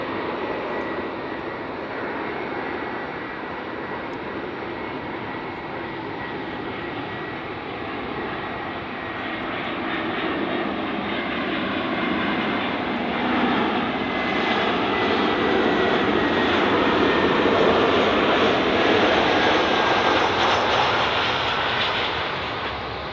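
A fixed-wing airplane approaching Munich Airport roars continuously, a broad engine rush that swells louder toward the end as it nears and passes, with no talking.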